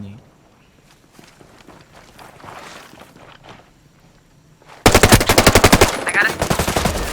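Hostile automatic gunfire in the video game Ghost Recon Breakpoint bursts in loudly near the end as a rapid, sustained rattle, after quieter in-game footsteps and movement sounds.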